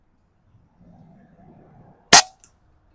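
A single sharp crack from an Umarex Zelos pellet gun fired at an outdoor range, loud and close, preceded by faint low rustling.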